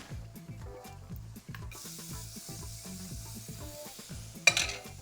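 Chopped onion hitting hot bacon grease in a steakhouse-style pan, with a steady close sizzle over rhythmic stirring scrapes and a sharp clatter near the end.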